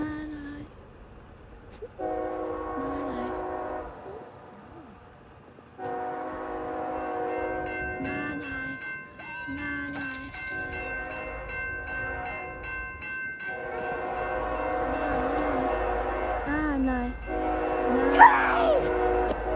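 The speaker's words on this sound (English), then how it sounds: "I hear a train over there too." A train passing through snow sounds several long, steady horn blasts, close and loud, separated by short gaps, with rumbling rail noise underneath and people talking faintly nearby.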